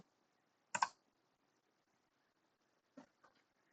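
Mouse clicks at a computer, one crisp click near the start, then two softer ones a couple of seconds later, close and quiet in an otherwise silent room.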